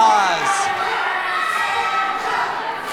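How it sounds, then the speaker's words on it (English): Wrestling crowd at a Sandra Moone versus Speedball Mike Bailey match, a steady mass of boos, groans and oohs filling the hall with shifting swells of voices. "You can hear by the boos and the groans, the oohs and the ahs"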